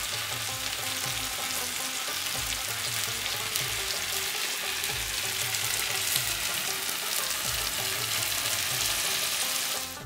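Chicken malai tikka pieces sizzle loudly and steadily in a hot pan after being flipped. The dense frying hiss is close and continuous throughout, with no speech.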